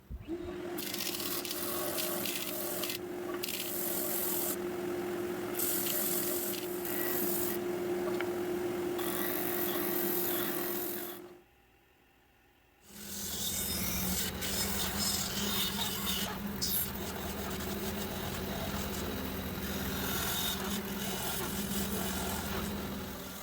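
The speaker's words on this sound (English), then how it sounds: "Now with some more shaping and sanding, the woodwork on this project will be complete." Continuous rubbing and rasping as a wooden hunting slingshot is shaped and sanded, steady close strokes with a low motor hum under them, briefly cut to near silence midway before resuming.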